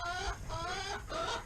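Cornish Cross meat chickens cluck and chatter close by in short repeated bursts, a few overlapping calls in quick succession on a farm.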